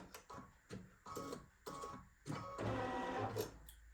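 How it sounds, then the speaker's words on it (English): Home embroidery machine stitching the outline of a star on an in-the-hoop mug rug, heard as short bursts of rapid mechanical stitching separated by brief pauses, then a longer continuous run, close and moderately loud with no talking. "I'm just going to go back and stitch the outline of the star."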